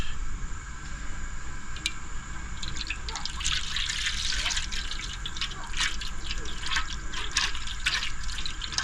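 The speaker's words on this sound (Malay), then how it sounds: "Kita nak taruh air." Water poured into a cooking pot for tom yam soup with freshly netted sea shrimp makes a steady trickling and dripping that runs for several seconds at moderate level.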